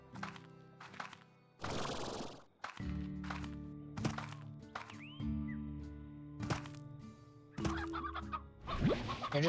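Hen clucking in the Slime Rancher video game, heard as short bursts of clucks and thunks spread across the clip over a steady game music and ambience bed, with one loud noisy burst near the start.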